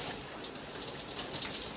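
Warm shower water spraying onto a pet military macaw parrot indoors, a steady hissing gush of spray that holds at an even level with slight splashy fluctuations.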